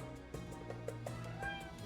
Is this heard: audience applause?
no